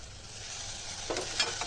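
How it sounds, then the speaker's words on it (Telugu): Grated bottle gourd frying in ghee for kheer, a soft continuous sizzle with a few light stirring scrapes near the end. "కద్దు పచ్చి వాసన పోయే వరకు మంచిగా వేయించుకోవాలండి."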